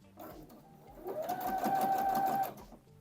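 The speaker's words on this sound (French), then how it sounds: "Ok, donc là, j'ai un pli et on va le passer sous la machine." A sewing machine stitches a fold in fabric in a rapid, steady mechanical whir that builds for about a second and a half and then stops, close by, with low background sounds around it.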